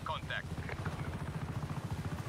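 Helicopter rotor in the Just Cause 3 video game, a steady loud low chopping pulse running throughout, with brief voice sounds at the start.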